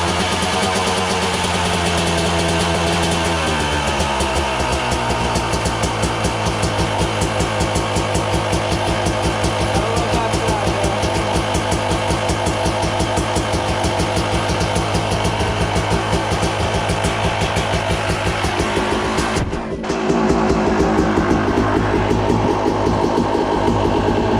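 A two-stroke motorcycle with a stock exhaust fires up and settles into a loud, steady, buzzing idle with a ringing, rattly tone, running alone throughout with a brief dip near the end.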